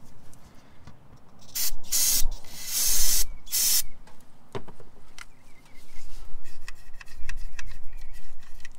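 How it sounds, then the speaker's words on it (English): Carbon and choke cleaner sprayed into the intake of a Subaru Forester during an induction service: several short hissing bursts of aerosol spray, close and loud, separated by brief pauses and light clicks. "You can go ahead and give it a little blast."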